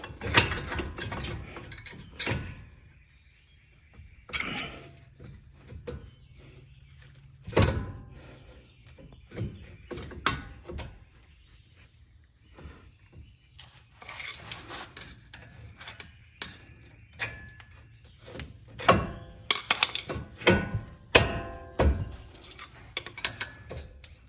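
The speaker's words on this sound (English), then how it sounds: "All right, let's try the caliper again. Get it to where it needs to go." Brake caliper being fitted onto a Ford Explorer Sport Trac in a garage: scattered metallic clunks, scrapes and rattles come in irregular bursts with quiet gaps between, close by and moderately loud, with no talking.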